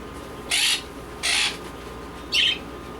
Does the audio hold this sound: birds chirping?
yes